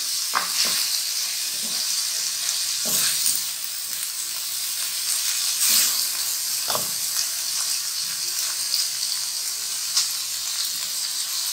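Beans and green chillies sizzling and frying in a pan for beans keema, a steady close hiss with occasional sharper crackles and stirring scrapes, no voices.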